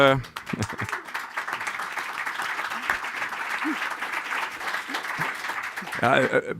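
Sustained audience applause follows an award introduction at a scientific workshop session, steady and moderately loud, with a speaker's voice briefly heard at the start and end.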